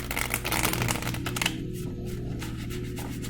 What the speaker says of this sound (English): Just shuffling the cards for today's card